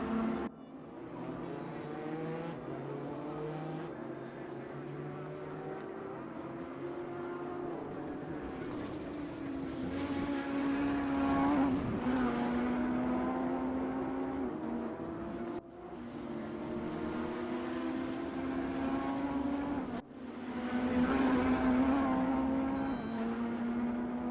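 BMW race car in a racing sim, GTE-class endurance event at TT Circuit Assen, engine droning steadily with rising and falling pitch through gear changes, loud and continuous, other cars' engines layered in, no talk.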